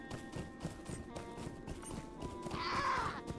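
Horse hooves clip-clop steadily on the ground in the Lord of the Rings Online video game, a quiet rhythmic patter over ambient game sound, with a brief higher whinny-like swell near the end.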